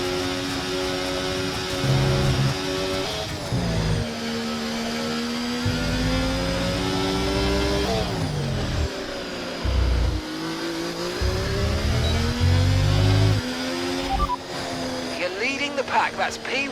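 Formula One car engines scream through gear changes while lapping the Circuit of the Americas in qualifying in the F1 24 game, the pitch climbing and dropping repeatedly, loud and close, with commentary talk running over it.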